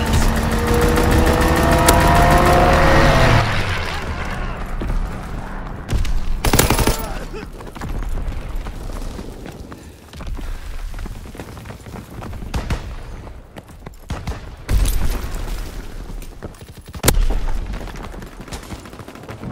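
A fighter plane makes a strafing run in Call of Duty WW2 team deathmatch: a loud opening roar and rapid gunfire, then scattered sharp shots and booms recurring amid quieter battlefield rumble.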